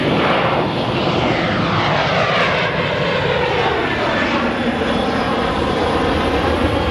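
An American Airlines Boeing 737 takes off at Sky Harbor International Airport, its loud, steady engine roar filling the air with a shifting whine.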